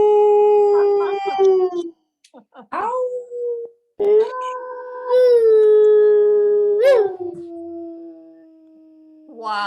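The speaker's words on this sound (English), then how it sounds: "there are some real authentic howls going on here" Dogs howling in long sustained wavering tones, several overlapping howls rising and falling with brief pauses, fairly close, with a person briefly exclaiming.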